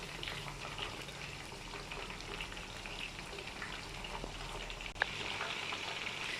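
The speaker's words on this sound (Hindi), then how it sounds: "ये देखें चिकन हमारा काफ़ी हद तक फ्राई हो चुका है" Chicken wings deep fry in oil with a steady, even crackling sizzle, moderately quiet and continuous, broken by one brief sharp click near the end.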